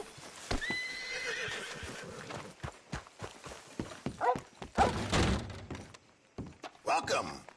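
A horse in the Red Dead Redemption 2 video game whinnies loudly up close, followed by clip-clopping hooves and heavy thunks, with a voice speaking briefly partway through.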